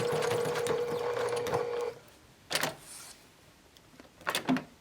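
A sewing machine runs in a steady whirring burst while stitching a rectangle around the edges of a fabric gift card pouch, then stops. Short mechanical clicks follow as the needle is set and the presser foot is lifted for pivoting.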